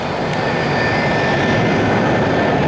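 A fixed-wing airliner approaching to land on runway 10, its engines a loud, continuous roar of broadband noise with a steady whine, holding close and unbroken throughout.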